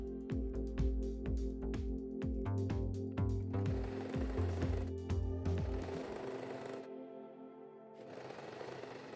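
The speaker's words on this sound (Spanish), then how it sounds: "continué cosiendo hasta completar este primer lado." A sewing machine runs close up stitching a lace top, its needle thudding in fast rhythmic bursts with short pauses between runs before settling into a steadier hum and then stopping.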